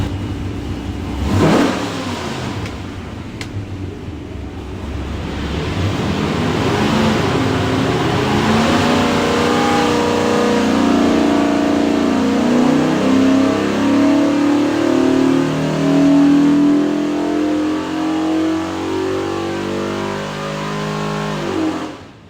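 A Ford 347 stroker V8 on a dyno revs steadily and loudly for about twenty seconds, climbing in pitch through a sustained pull before cutting off sharply, with no talking over it.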